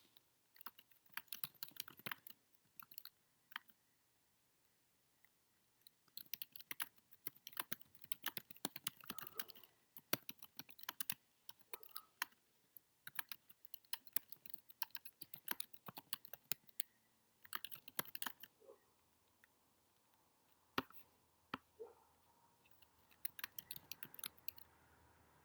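A computer keyboard clatters in irregular bursts of quick, crisp keystrokes, close and fairly quiet, separated by short pauses, with a faint hum later on.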